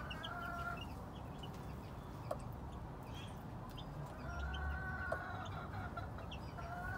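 Game chickens, roosters of a speed-and-power fighting line about a year old, cluck steadily in the distance, with a few sharp calls, over a constant low rumble of outdoor background noise.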